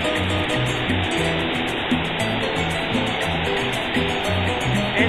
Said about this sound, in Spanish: Esta es la parte donde el agua cae de esa cascada artificial.